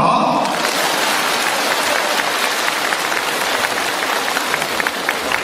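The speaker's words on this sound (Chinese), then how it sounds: "鼓掌" An audience at a Buddhist dharma assembly in Hong Kong breaks into applause, a dense, loud clatter of many hands that starts right away and carries on steadily, with a voice heard briefly at the very start.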